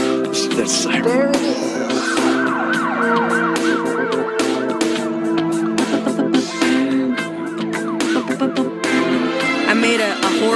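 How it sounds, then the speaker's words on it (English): A siren-like wailing effect rises and falls inside a busy pop song, woven through dense, loud music with steady beats and a sung melody, sounding throughout rather than standing alone. "That's siren."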